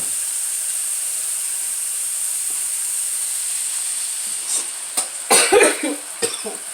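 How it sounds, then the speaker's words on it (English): Several harsh coughs from spicy crushed red pepper fumes while cooking break out close by after a stretch of steady hiss, coming in a short cluster and then a couple more. "I'm coughing because of the red crushed peppers."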